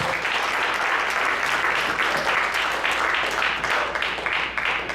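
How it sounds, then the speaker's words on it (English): A Baptist church congregation claps in praise, loud sustained clapping from many hands filling the room evenly, with faint voices mixed in beneath. "Let's give God a hand clap of praise"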